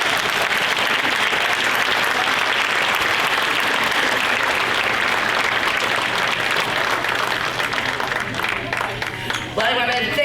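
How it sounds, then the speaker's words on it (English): A crowd at the Inspire Awards gives sustained, loud applause for its Citizens of the Year, dense clapping filling the room for several seconds before thinning out at the end, with some murmur of voices. "one more round of applause for our Citizens of the Year"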